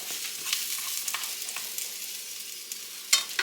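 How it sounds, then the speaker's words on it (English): Onions crisping in a hot skillet give a light, steady sizzle with scattered sharp crackles and a louder pop near the end, fairly close and with no voices over it. "Got my onions back here and they are getting crispy"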